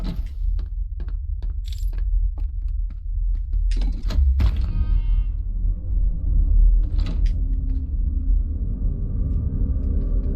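Low rumbling drones under scattered thunks, clicks and a metallic ringing tone in the video game Outer Wilds, a steady deep bed of sound running throughout with sharper knocks and sliding noises on top.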